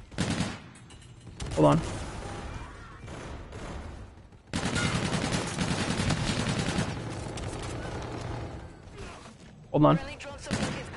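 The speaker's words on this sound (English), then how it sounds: "Guys shooting at me, gameplay." Rapid automatic gunfire in a first-person shooter video game, loud bursts with a pause in between, while a player speaks briefly over the shooting.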